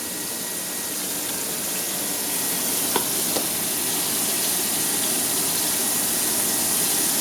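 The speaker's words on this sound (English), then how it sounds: "The bacala is frying nicely." Salt cod (baccalà) pieces frying in oil, a steady dense sizzle throughout with a couple of small pops, no talking.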